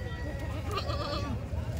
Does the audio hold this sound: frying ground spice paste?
no